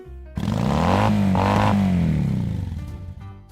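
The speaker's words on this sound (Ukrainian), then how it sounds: "Мотоцикл." A motorcycle engine roars loudly nearby, its pitch rising as it revs up and then falling away as it passes.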